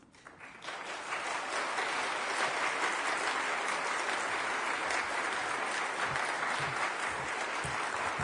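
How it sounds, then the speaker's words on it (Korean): A congregation at an evening mission conference applauds to welcome missionary Son Chang-nam, the clapping rising from quiet in the first second into a full, steady roar that holds to the end. "우리 손창남 선교사님 나오실 때 여러분들 박수로서 환영하시기 바랍니다"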